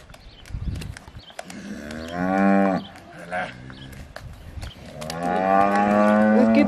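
Young cattle on a ranch moo loudly and close by, with several long, drawn-out calls separated by short pauses and a few quieter background noises.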